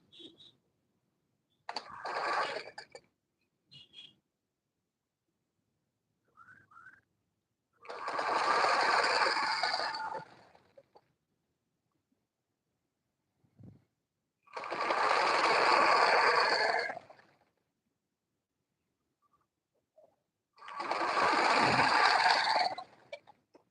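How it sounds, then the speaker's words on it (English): A sewing machine runs in three sustained bursts, stitching an Ankara fabric gown, with short pauses and small clicks between runs, close and fairly quiet. "I'll also turn the other side and start sewing from the notch"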